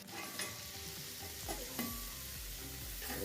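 Dry prawn stuffed brinjal sizzles and fries steadily in a pan, a close, continuous crackle with a few stirring scrapes and no talking.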